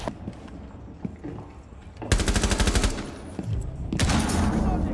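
Rapid automatic gunfire in Rainbow Six Siege, two loud close bursts of fast shots after quieter in-game sounds, the second burst running to the end.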